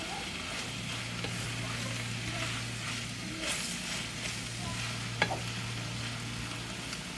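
Rice noodles for char koay teow stir-frying in a hot pan, a steady continuous sizzle with occasional scrapes and clinks of the spatula, close and fairly loud with no talking.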